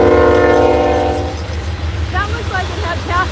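An Amtrak passenger train sounds a loud, sustained horn blast at a shoreline, then rolls past with rumbling and rhythmic wheel clatter while voices talk over it.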